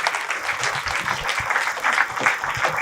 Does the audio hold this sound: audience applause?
yes